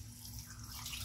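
Water poured into a cooking pot of chicken and pork adobo, a brief, faint, steady splashing stream with no voices.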